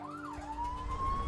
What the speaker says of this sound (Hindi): बनारस के पुलिस स्टेशन में पुलिस की गाड़ी रुकती है।